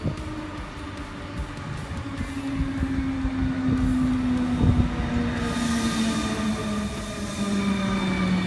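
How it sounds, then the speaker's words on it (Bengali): An intercity train pulls into a station in Poland, its steady rumble building close by with a sustained wheel squeal and rail noise that continues throughout. "আমাদের ট্রেন চলে আসছে ইন্টারসিটি।"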